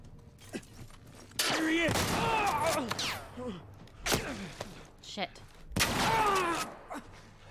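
Video game gunfire crackles in several loud bursts: a long volley, a single sharp shot, then another rapid burst, separated by short quieter gaps.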